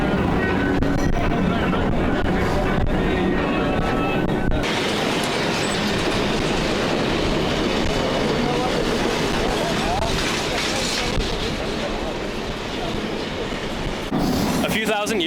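Loud, continuous rumble and rattle of a cargo train crossing the Sahara in Mauritania, heard from aboard with clanking wagons and rushing wind throughout, and people talking over it.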